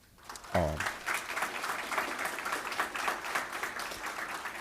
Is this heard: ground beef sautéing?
no